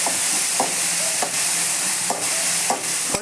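An egg curry mixture sautés in a pan with a steady close sizzle, punctuated every half second or so by soft scrapes and knocks of a stirring spoon.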